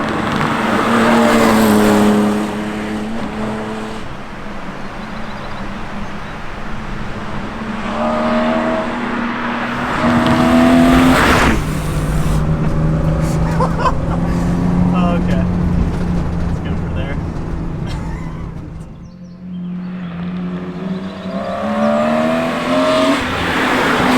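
A BMW E36 M3 driven hard through corners, its engine note rising and falling in long sweeping pulls with shifts between, loud and close, while a person talks over it throughout.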